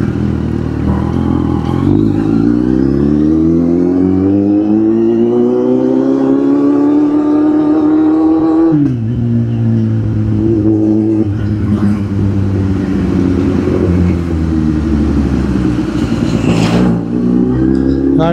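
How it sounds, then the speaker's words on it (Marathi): A Kawasaki Z800 motorcycle engine revs steadily, its pitch climbing, dropping sharply, then rising again in loud sustained sweeps that run the whole time. "गाडीचा आवाज हळूहळू वाढायला लागला."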